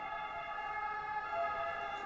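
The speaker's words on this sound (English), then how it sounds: "Oh, so that's what ambulances sound like in Rome." An ambulance siren on a street in Rome holds a steady, tonal wail at moderate distance, droning continuously through the short stretch with no speech.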